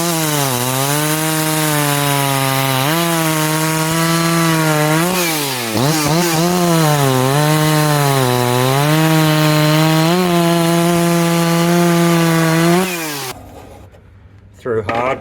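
An 88cc chainsaw bites through hardwood at close range, its loud engine drone rising and dipping with load for several seconds before cutting off abruptly near the end.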